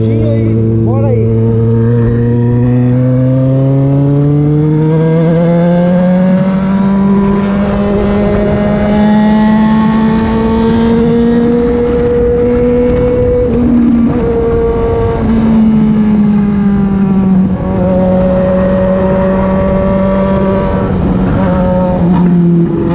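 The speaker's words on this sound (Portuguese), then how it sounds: "no momento aí que eu tiver calado, é que eu tô acelerando" A car accelerates through the streets of Nova Campina, São Paulo, its engine note climbing steadily in pitch through the gears, loud and continuous from inside the vehicle with no talking.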